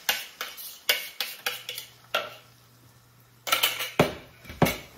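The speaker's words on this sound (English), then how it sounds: "Okay, we're gonna add this eggs to our pan here." A utensil stirs beaten eggs in a pan for breakfast burrito filling, giving sharp clinking scrapes against the metal in quick irregular bursts with a short quiet gap midway.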